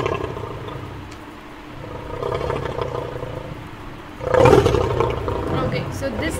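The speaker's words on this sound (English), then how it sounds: "so this is the sound of lion" A lion lets out a deep, rough roar that swells suddenly partway through, loud and close, after a lower rumbling stretch of growling.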